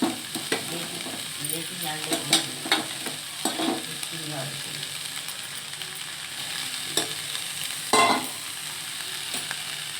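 Banana flower (mocha) is stirred lightly in a pan, giving a low sizzle under repeated scraping strokes and taps, with a louder clatter near the end.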